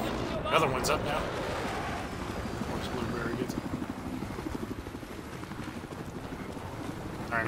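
Rhythmic thudding whir of a helicopter's rotor in a Battlefield-style multiplayer game, a steady chopping pulse under muffled game sounds and occasional clicks, moderately close.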